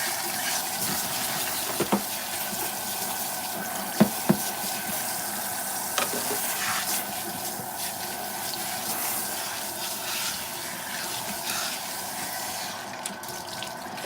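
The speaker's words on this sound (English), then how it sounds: "All right, so for the rinse, we're going to use cool water." Cool tap water runs steadily into a salon sink during a hair rinse, a continuous close hiss and splatter with a few small knocks.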